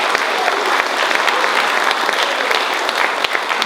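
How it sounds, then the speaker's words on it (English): A crowd at the Washington County Fair Queen Contest claps for the pageant sponsors, a close, dense round of applause with a few sharper individual claps standing out, continuing evenly throughout. "So we would love for you guys to give them a big thank you by giving them a round of applause."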